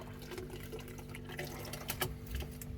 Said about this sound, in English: Oh, bit of a splash there.